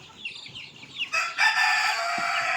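Young chickens cluck and squawk close by during a poultry vaccination, a few short calls followed by a louder, sustained cry; no talking.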